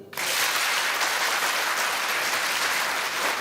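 Sudden audience clapping bursts in at a spiritual gathering with Pandokhar Sarkar Maharaj and carries on as a steady, even wash of applause, with no speech over it.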